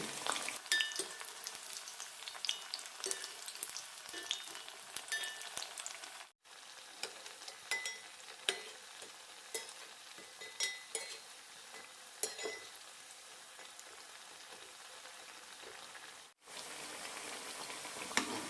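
Cassava (tapioca) bhaji fritters fry in hot oil, giving a continuous close crackling sizzle with scattered pops and a few soft clinks, briefly interrupted twice.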